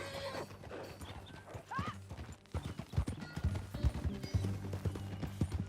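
Horse hooves gallop in steady clip-clop rhythm during a ride in the Red Dead Redemption 2 video game, close and fairly loud, with a brief whinny early on and other game sounds around.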